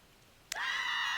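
Death Knight character in World of Warcraft lets out a single sudden high-pitched scream that starts abruptly and holds steady at full loudness to the end, with no talk over it.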